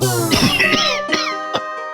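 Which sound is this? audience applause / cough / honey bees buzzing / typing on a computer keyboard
cough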